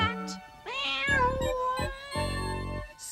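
A cat meows several times in a row, with drawn-out wailing calls against a musical background from a children's fairground song, clear and fairly loud.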